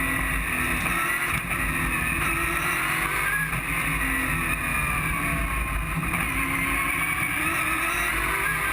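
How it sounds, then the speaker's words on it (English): Racing engines roar continuously, revving and shifting pitch as the cars power through a tight chicane, loud and close with no talking. "Let's have a listen to the cars through this tight chicane."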